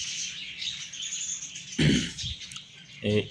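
Budgerigars chirp in a soft continuous chatter from a clay nesting pot holding chicks, with a couple of louder nearby thumps or bumps breaking through near the end.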